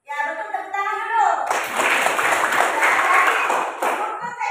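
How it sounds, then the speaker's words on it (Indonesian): Classroom applause in an Indonesian school lesson, a dense broadband burst of many hands clapping that rises sharply and holds steady for several seconds, following a teacher's voice at the start. "Tepuk tangan dulu."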